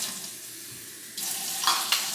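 Tap water starts running into a bowl in a home kitchen, a steady rushing splash that switches on partway through, with a couple of clinks near the end.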